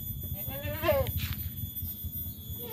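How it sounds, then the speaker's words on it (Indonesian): Goats in a village pen give a single close, wavering bleat over a low rumbling background, with a fainter second call shortly after. "ternyata memang banyak kambing-kambingnya"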